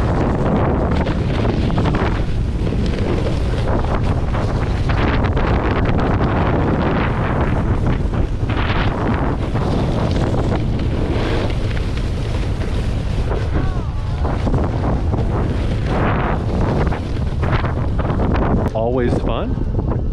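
Strong wind on a mountain during early winter riding near Whistler buffets the microphone continuously for about twenty seconds, a loud, rushing roar with gusty swells, and a voice speaks faintly at times beneath it.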